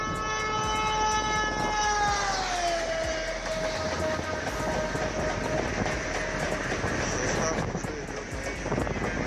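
A train roars past at about 200 km/h during brake-system testing, its tonal whine dropping in pitch as it goes by, followed by a continuous rushing rumble of the cars.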